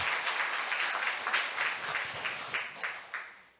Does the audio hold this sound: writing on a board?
no